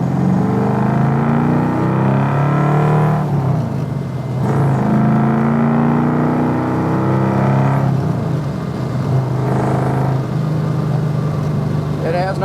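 A 1967 Mustang S-code with a 390 engine accelerating in fifth gear, its deep engine drone rising and falling in several pulls from inside the car, with someone talking over it.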